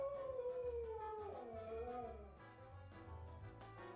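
A dog howls in long, wavering, rising and falling cries right before a bath, fairly faint, with a low rumble of room noise underneath.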